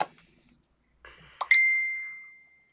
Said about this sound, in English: We have a text message.